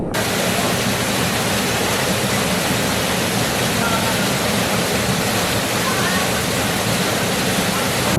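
A huge waterfall in the El Yunque tropical rainforest roars as a steady, loud, broadband rush of falling water that fills the whole stretch without a break.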